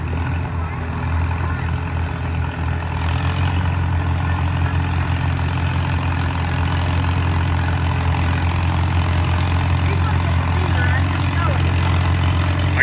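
A 1952 John Deere tractor engine runs steadily at a tractor pull, a loud, low, continuous rumble that holds an even idle throughout.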